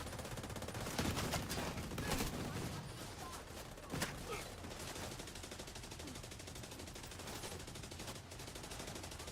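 Sustained automatic gunfire in The Division 2 video game, a steady rattling stream of shots with a louder crack partway through, fairly distant and even in level.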